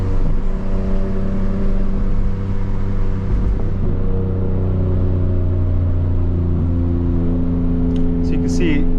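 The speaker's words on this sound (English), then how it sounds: "This car sounds crazy down here." A 2025 BMW M4's engine drones steadily and loudly throughout, heard up close with layered low harmonic tones, and a brief higher whine near the end.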